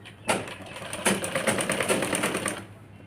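A sewing machine runs a short burst of stitching along a kurti seam, its needle clattering in a fast steady rhythm that starts abruptly, holds for about two seconds, then stops; close and moderately loud, with no talk.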